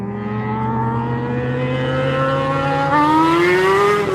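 A pickup truck and a motorcycle driving off, a loud close engine roar with rising pitch as they accelerate, revving climbing sharply near the end.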